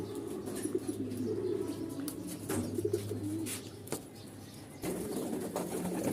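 Soft coos and low murmuring calls of pigeons being fed fill the air, with occasional wing flutters and faint chirps in the background.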